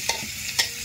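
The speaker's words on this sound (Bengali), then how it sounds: "পনিরগুলো দিয়ে ভালো করে কিন্তু নাড়াচাড়া করে নেব।" Paneer being stirred into frying potato and carrot in a pan, two quick spatula scrapes over a steady soft sizzle, close and clear.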